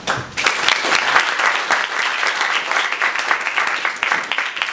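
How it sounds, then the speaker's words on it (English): An audience applauds steadily at a layover event, a dense, loud wash of many hands clapping close by, continuing without pause for several seconds with no speech over it. "So a round of applause."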